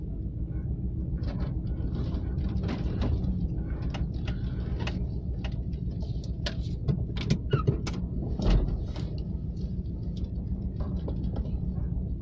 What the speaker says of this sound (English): Nice first gear whine.